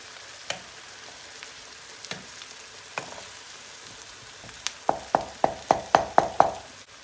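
Minced meat, onions and a glass of water heat in a pan on the stove, giving a faint sizzle with scattered knocks, then a rapid run of about eight sharp clicks near the end.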